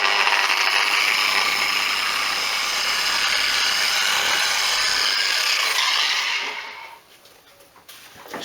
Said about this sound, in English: probably won't be able to hear me over the polisher